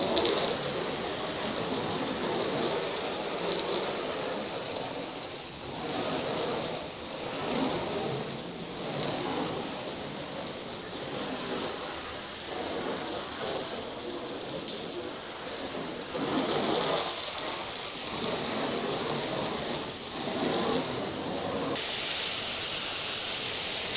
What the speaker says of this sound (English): Now I'm going to hose this off without even hitting it with a brush.